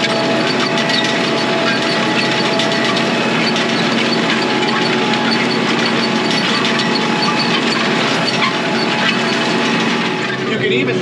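A tractor-pulled disc harrow works through deep, soft, not very rocky soil in a hay field, giving a steady, loud, continuous grinding and rumbling churn with engine drone underneath, unbroken throughout.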